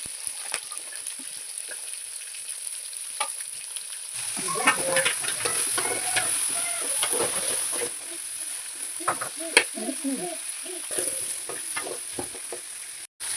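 Onion and garlic sauté in hot oil for a fish curry, with a continuous sizzle, scraping spatula strokes, and a brief chicken clucking in the background.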